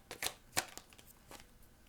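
Tarot cards being shuffled, a few quick papery riffles and taps in short uneven bursts, soft and close with no talking.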